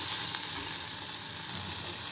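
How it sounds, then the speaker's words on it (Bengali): Chopped tomatoes fry in a pan with lightly browned onions, giving a constant, even hiss of sizzling that stays steady throughout. "টমেটোটাও একটু ভাজা হোক, তারপরে সমস্ত মশলা দেব।"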